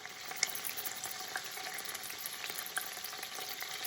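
Hot grease pops and crackles steadily in a pot of Cajun turkey neck jambalaya, a dense frying hiss with scattered sharper pops, close and fairly quiet, no voices.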